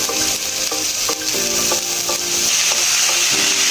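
Boiled banana flower stir-fried with spice paste in oil: a loud, close sizzle with repeated rhythmic scraping and clinks of a spatula against the pan, continuous throughout with no voices.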